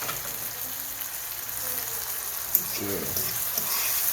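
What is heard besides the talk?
sautéing saltfish and red herring in oil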